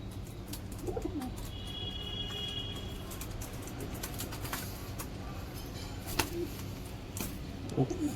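A few soft, fairly distant pigeon coos rise over a steady background hiss among pairs of pigeons offered for sale in Odisha, with scattered clicks and taps.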